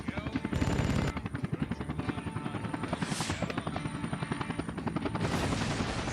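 A helicopter in the Vietnam War video game Air Conflicts: Vietnam, a loud, steady rhythmic rotor thump throughout with brief bursts of gunfire layered in.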